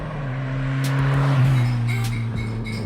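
A fast car passing close by on a road, its engine hum rising to a peak and then falling away, loud and clear, with a light rattle near the end.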